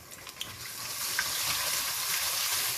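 Garlic and ginger paste sizzling steadily in hot oil for chicken korma, a bright continuous crackle that grows slightly louder after the first second, close and with no one talking.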